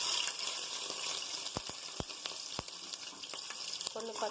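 Ginger garlic paste dropped into hot oil left from frying onions for brinjal biryani, giving a steady close sizzle sprinkled with sharp pops and crackles, with no talk.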